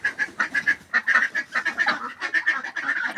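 Ducks quack repeatedly in rapid, close bursts, including a young muscovy duck among a flock, with honking calls overlapping in a steady stream.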